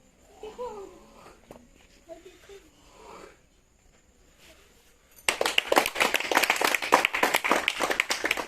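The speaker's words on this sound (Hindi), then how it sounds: "ताली शाबाश" An audience breaks into clapping at a strongman display of tractor-pulling and lifting feats by teeth, dense claps rising suddenly after several seconds of quiet murmuring voices and scattered sounds.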